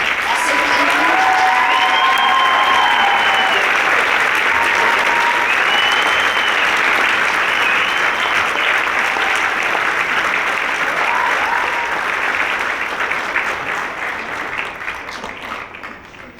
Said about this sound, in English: Please join us in a round of applause for all the members of the New Ulm Fire Department.